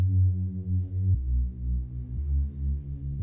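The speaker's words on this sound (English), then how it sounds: "I added this low frequency bass, the sub bass, which sounds like this." A low sub bass line from an amapiano beat built in FL Studio throbs deep and steady, with a few note changes and nothing else playing over it.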